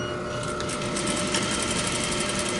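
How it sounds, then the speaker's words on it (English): A sewing machine stitches slowly along a piece of muslin, a steady mechanical whir with a rapid needle chatter running without pause, close and fairly loud. "Slowly and carefully, I'm going to sew to the end of my piece of muslin"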